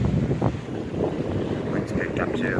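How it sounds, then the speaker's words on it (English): Strong storm wind gusting into the microphone during a severe thunderstorm under a tornado warning, a loud continuous roaring rush that swells and dips, with faint higher whistling tones later. "the wind's picked up too, so you see the wind is now actually picked up."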